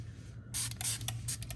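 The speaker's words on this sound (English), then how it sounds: "So let's give it a good spray down here." A few short hissing bursts from a spray bottle of cleaner aimed under a Tesla Model Y car door, close and distinct, over a low steady background hum.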